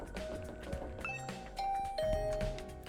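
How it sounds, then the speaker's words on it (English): A doorbell rings at a room door in the video game The Hundred Line -Last Defense Academy-, giving a chime-like tone over a steady bed of game music. "I rang the doorbell to Tsubasa's room."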